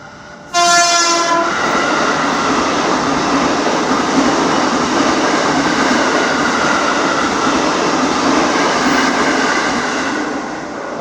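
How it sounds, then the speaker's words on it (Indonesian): A train passes close by, opening with a brief horn blast and then a loud, steady rumble and rattle of wagons that fills about ten seconds, fading only slightly at the end, with no talking. "ini sambil nungguin kereta ini lewat."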